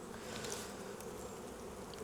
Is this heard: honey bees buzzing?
yes